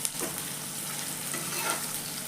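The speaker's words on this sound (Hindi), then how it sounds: "तो हल्का सा जीरा भून के" Cumin seeds lightly roasting in a pan, with a steady close sizzle and faint stirring scrapes running throughout.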